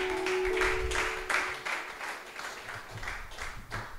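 A church congregation in Toulouse breaks into sustained applause and cheering during a worship service, a loud crowd of many hands clapping in loose rhythmic waves that fade a little over several seconds.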